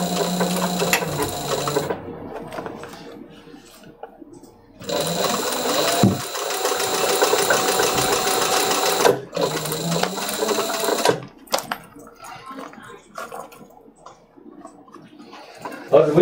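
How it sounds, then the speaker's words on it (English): A sewing machine stitches a leather phone pocket onto a briefcase panel in bursts of steady, loud mechanical whirring that start and stop several times, with quieter pauses between runs. "I'm going to try and keep the leather along that line while I stitch it"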